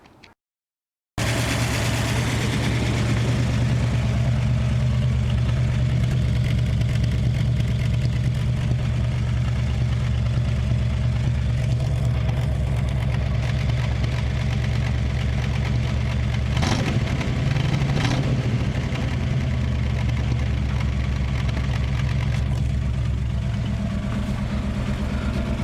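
A 1961 Chevrolet Apache truck engine idles steadily through its old, nearly straight-through muffler, a loud continuous low rumble that starts abruptly and holds even, with a brief rise in the middle.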